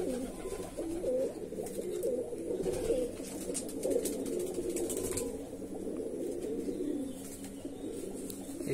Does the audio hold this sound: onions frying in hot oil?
no